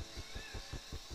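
Engine of the robot Floyd in the Jet Force Gemini video game, a low mechanical drone pulsing in a steady rhythm of about five beats, heard alone and fairly quiet.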